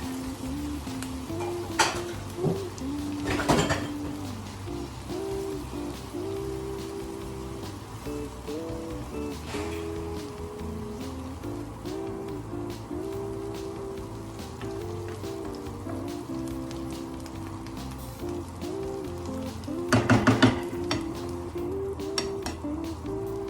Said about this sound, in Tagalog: Simmer for 10 minutes